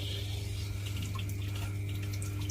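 A washing machine's water inlet valve lets in only a weak trickle, producing a steady low hum with a faint, continuous water flow throughout.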